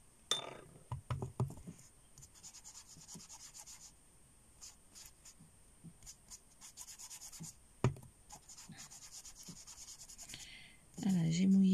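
A small paintbrush dabs and strokes across watercolour paper, giving faint, intermittent soft brushing and light taps, close and quiet, with a louder scrape near the end.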